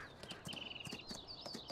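Horse hooves clip-clop in Farming Simulator 19, a steady run of hollow, evenly spaced knocks, quiet and close, with a thin whistling tone running through the middle.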